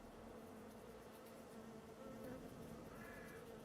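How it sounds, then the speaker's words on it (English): Bees swarm out of a hive in Farming Simulator 22, a steady, dense buzzing drone that holds at a constant low level throughout, with no talk over it. "So there's all the bees coming out."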